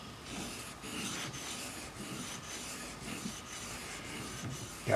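Stanley 71 router plane blade honed on the 4000-grit side of a sharpening stone, a steady soft rasping rub in repeated back-and-forth strokes, close and moderately quiet, with no talk.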